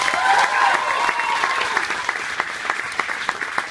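Audience applause at a hypnosis show aboard the Disney Wonder, a dense burst of clapping loud at first then thinning into scattered claps, with some crowd noise.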